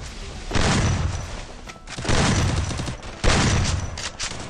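Three heavy explosive bursts from thrown grenades in the video game Free Fire's zombie mode, each a loud booming blast with crackling debris, separated by short gaps.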